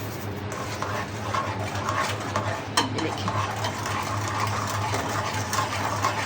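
Mango kheer being stirred in a pot after sugar goes in, a steady scraping and swishing of a spoon against the pan with a low simmering hiss underneath, no talk.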